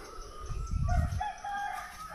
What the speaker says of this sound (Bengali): আপনারা হয়তো বা বিভিন্ন পাখির ডাকও শুনতে পাচ্ছেন।